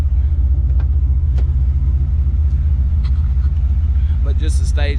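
A 2003 Ford Mustang GT V8 fitted with stage 2 cams idles close by with a steady low rumble, and someone talks briefly over the engine near the end.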